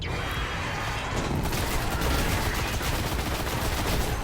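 Dense, continuous automatic gunfire in the video game Destiny 1, loud and rapid with no pauses, filling the clip with barely any other sound.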